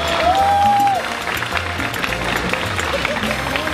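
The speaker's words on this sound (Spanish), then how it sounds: "Quiero que les demos un fuerte aplauso" Steady crowd applause at a wedding celebration, continuous clapping at moderate level with a brief tonal sound near the start.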